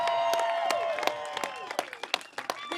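A rally crowd outside the Minneapolis VA Medical Center cheers and applauds, a steady wash of clapping and whoops that thins into scattered claps near the end.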